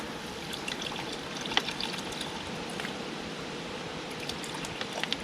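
Water poured steadily into a Carolina Reaper pepper mixture, a continuous close liquid splash and trickle lasting the whole stretch with no voices.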